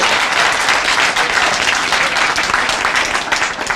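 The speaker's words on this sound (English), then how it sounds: "can you give yourselves a round of applause?" Residents at the opening of the new Laurel branch library give a continuous round of applause, even and full for several seconds and tapering only slightly near the end.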